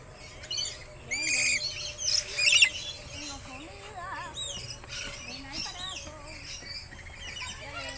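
Birds landing on people give sharp squawks and chirps, loudest in a cluster of bursts around the first few seconds, with softer calls scattered after, heard close up against faint background voices.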